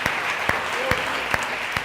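A church congregation claps together during a sermon, a dense, steady wash of applause filling the room with a few louder claps standing out, continuous through the short stretch.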